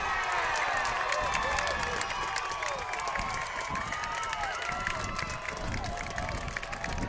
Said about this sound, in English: This crowd comes to life